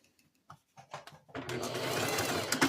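A sewing machine back stitches a garment seam during a thrift-flip of a jumpsuit into a tunic top, running steadily and close after a few soft handling taps and brief movements.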